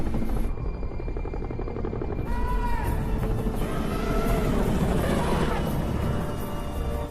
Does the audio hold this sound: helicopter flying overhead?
yes